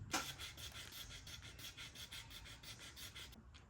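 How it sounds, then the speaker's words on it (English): Close, quiet rasping of 1200 grit sandpaper sanding scratches on a Louis Vuitton pool slide, quick regular back-and-forth strokes that stop just before the end. "I'm going to be using some 1200 grit sandpaper to go ahead and sand down the imperfect areas like so."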